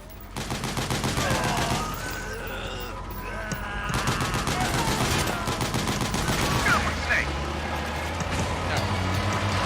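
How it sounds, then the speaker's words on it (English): Heavy machine gun fire in Metal Gear Solid 4: Guns of the Patriots, rapid loud bursts of rattling shots with short pauses between volleys, over continuous battle noise with voices talking at times. "A large caliber weapon ought to do the trick. Use the machine gun."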